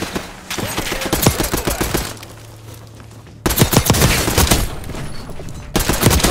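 Gunfire in the Call of Duty Warzone video game comes as loud, rapid automatic bursts of close shots, a brief lull with a low hum, then more sustained bursts.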